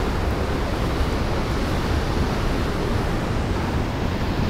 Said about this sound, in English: The sea down there,